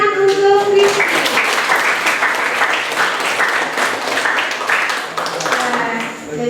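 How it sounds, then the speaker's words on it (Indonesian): A classroom audience claps for a student who has just presented on the role of bacteria and viruses. The applause is lively and irregular, with voices mixed in and a few tonal sounds at the start. "Tepuk tangan untuk Rizky"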